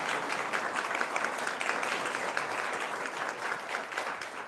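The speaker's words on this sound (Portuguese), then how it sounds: "Palmas agora." An audience at a cloud engineering meetup breaks into steady applause that holds level throughout, dense and fairly close, with no talking over it.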